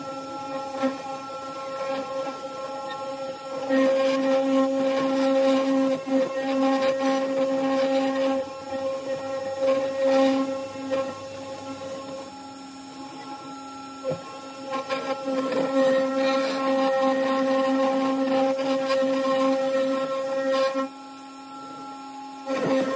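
A 3018 Pro CNC router carves a design, making a continuous tonal whine with steady harmonic pitches that shift slightly as the cutter moves. It sounds close and fairly loud, with brief dips partway through and near the end.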